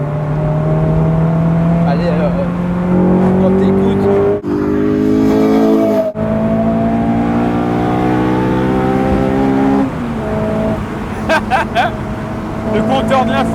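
A loud Honda S2000 sports car engine, on a track-and-road chassis, revs and accelerates, its pitch climbing steadily through gear changes, with a brief drop and surge midway and a rev burst near the end.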